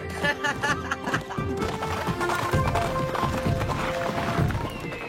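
A cartoon horse gallops with quick rhythmic hoof clip-clops amid busy, loud animated soundtrack music and effects, briefly overlapping a burst of laughter-like sounds.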